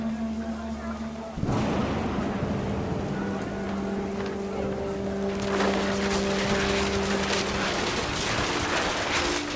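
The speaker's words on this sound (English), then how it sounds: "The rain came down in buckets then" A heavy rainstorm in What Remains of Edith Finch comes in as a sudden wash of dense hiss, steady and enveloping, with a low hum and faint tones beneath.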